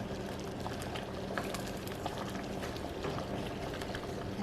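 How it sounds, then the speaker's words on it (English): A peanut butter stew boils in a pot on the stove, with a steady, close bubbling and popping simmer and no talk. "if it starts to boil too much for you, just turn your fire down to a medium"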